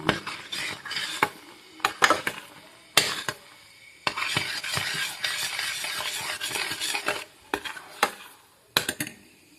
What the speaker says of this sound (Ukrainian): додавала вершкове масло і помішую, щоб воно розтопилося